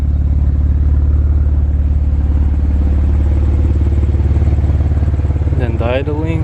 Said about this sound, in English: I don't know if you can hear the idle, but it actually sounds really good. It's kind of like purring. It's a nice deep tone.